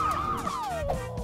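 An ambulance siren wails loud and close in a short burst, its pitch sweeping down in a repeating pattern.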